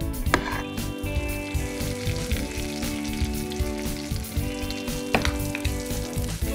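Vegetable omelette mixture sizzles and fries steadily in a preheated pan, a dense continuous crackle with a few brief clinks, no voices over it.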